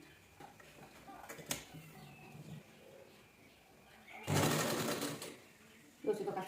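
A sewing machine stitches a panelled blouse, with a loud, fast rattling run of stitches for about a second followed by a second short burst, while someone talks over quieter stretches.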